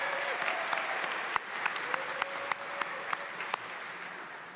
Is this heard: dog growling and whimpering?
no